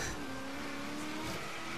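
A car engine revs high and steady in Forza Horizon 3, with a sustained whine and faint tire hiss as the car drifts, loud and continuous with no talk.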